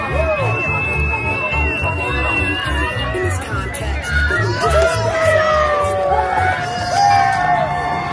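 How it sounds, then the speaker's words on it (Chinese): Crowd cheering and shouting at an Independence Day parade in the US as a local university's float passes, a dense, continuous roar of voices with whoops and chatter throughout. "他们的目前的欢呼声也是最高的"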